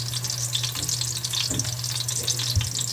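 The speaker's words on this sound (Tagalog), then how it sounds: "Lutuin natin ulit yung binili nating chicken kagabi" Chicken sizzling and frying in a pan, a dense crackling sizzle with occasional stirring scrapes, close and steady throughout with no talking.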